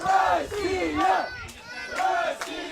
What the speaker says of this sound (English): And Russia shouts from the crowd.